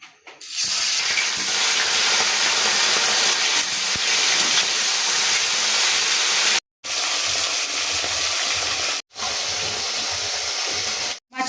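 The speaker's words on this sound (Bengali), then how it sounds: "কড়াতে তেলটা আমার গরম হয়ে গেছে এবার আমি বাটার মাছগুলো একে একে ভেজে দেবো" Bata fish rubbed with salt and turmeric frying in hot oil in a kadai, a loud, steady close sizzle and hiss that cuts out briefly twice before resuming.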